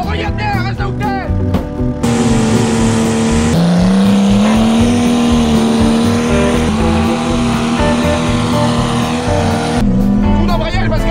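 A car engine roars and revs hard during a clutch-kick drift, a loud sustained drone with pitch dips and climbs, someone shouting over it at the start and end.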